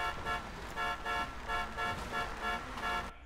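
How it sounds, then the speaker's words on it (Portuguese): A car horn in the GTA 5 video game honks repeatedly in a steady rhythm of about six evenly spaced toots, loud and alone with no talk. "Vamos buzinar."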